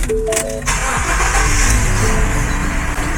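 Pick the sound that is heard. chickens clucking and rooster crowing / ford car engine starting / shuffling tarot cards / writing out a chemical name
ford car engine starting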